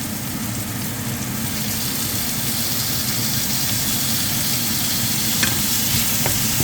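Cherry tomatoes frying in oil in a pan for tuna sarciado, a steady close sizzle with faint stirring scrapes throughout and a couple of brief clinks near the end.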